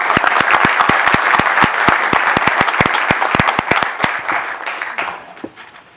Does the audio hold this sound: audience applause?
yes